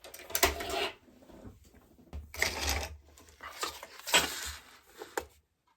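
Paper being cut into a one-inch strip for a handmade card, heard as several short crisp bursts of slicing or rustling separated by quiet gaps, close and fairly soft.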